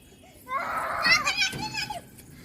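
Children playing games in a park during summer holidays, their lively voices and calls rising in a short close burst of excited chatter and shouts.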